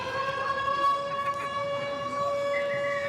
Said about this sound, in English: And as the siren goes in the background, that is full time here in the Men's Opens Pool A.